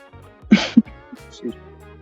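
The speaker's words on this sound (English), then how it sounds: "I'm sneezing." A sudden sneeze bursts out in two sharp, close bursts, followed by a short quiet moment with faint shuffling.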